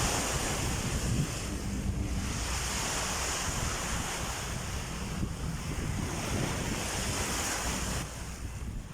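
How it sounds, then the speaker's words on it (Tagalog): Strong sea waves surge and wash continuously along Manila Bay, a dense steady roar of surf with wind buffeting the microphone throughout, loud and unbroken with no voices. "Malakas ang alon."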